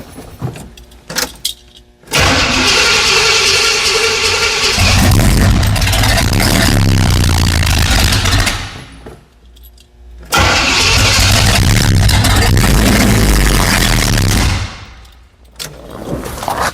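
A 1977 Pontiac Firebird barn find, fresh from an engine overhaul and a distributor install, cranks and fires into a loud, rough idle. It runs for several seconds, dips briefly, then catches again and runs on before quieting.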